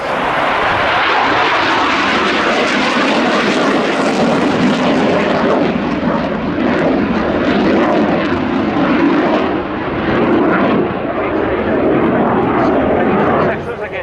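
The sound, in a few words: MiG-21 LanceR jet flying at air show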